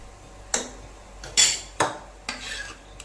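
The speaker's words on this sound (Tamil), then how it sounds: "இது ஒரு 2 பெரட்டிட்டு இப்போ நம்ம சாதம் போட்டு கிளறிக்கலாங்க" Rice stirred with spices, salt, cumin powder and pepper in a cooking pan, heard as a few sharp scraping clinks of a spoon against the pan spaced about a second apart, close and fairly quiet.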